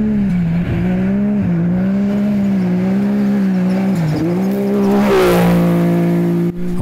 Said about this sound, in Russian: Ворчание двигателя